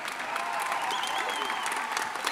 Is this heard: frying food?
no